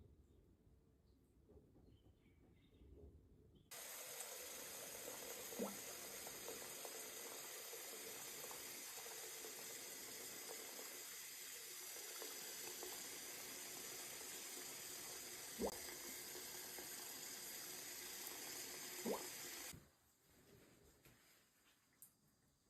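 Shower water runs in a steady, broadband hiss that starts abruptly and stops about sixteen seconds later, with a few soft thuds and faint background sounds underneath and no talking.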